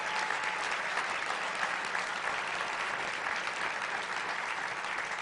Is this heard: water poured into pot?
no